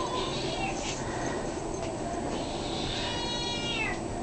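A playful adopted male cat meows in a shelter room, two drawn-out meows at close range over a light background hiss.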